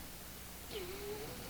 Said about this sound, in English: you're gonna try and get the cat to attack.